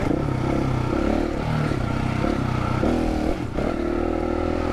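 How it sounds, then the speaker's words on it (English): Husqvarna 701 single-cylinder adventure motorcycle cruising steadily at about 70 km/h in fifth gear, a continuous loud engine drone with wind rumble and no break throughout. "we're sitting on about 70 Ks in fifth gear and we're just cruising along"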